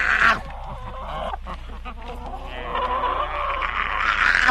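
An animated chicken sound effect plays on a radio broadcast, a few seconds of squawky, clucking fowl calls that swell near the end.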